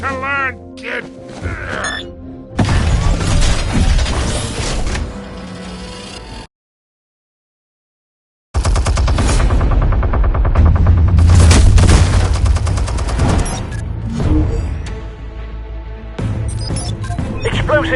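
Explosions and bursts of gunfire in the Batman Telltale Series game, loud heavy booms and crashes over a dense action soundtrack, broken by a short silent gap partway through.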